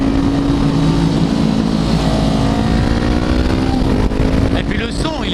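Honda CBR 500 R 2016 motorcycle engine while riding, a loud, steady drone with a rising pitch as it accelerates, heard close with wind noise and a rider's voice over it.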